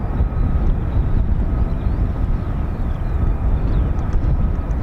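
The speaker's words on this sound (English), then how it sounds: "I think we got Cranwell, another Cranwell aircraft in the area." An RAF Cranwell aircraft flies overhead near an RAF airfield, a loud continuous low engine roar that holds steady throughout with no talk.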